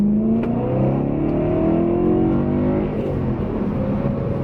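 A BMW E90 M3's S65 V8 revs steadily under load, its rising harmonic whine sustained and loud for several seconds with no talk over it.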